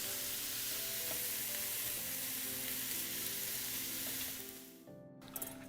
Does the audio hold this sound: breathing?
no